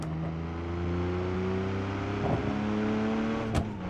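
Car in BeamNG with nitrous switched on, its engine holding a steady droning tone that climbs slightly as it pulls, with a brief gritty burst midway and a sharp clack near the end, no voices.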